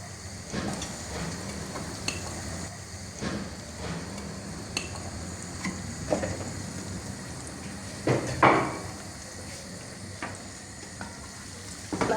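Masala being stirred into chicken and rice frying in a pot, with a soft sizzle under intermittent scraping and knocking of a spoon against the pan, one louder clatter partway through, no speech.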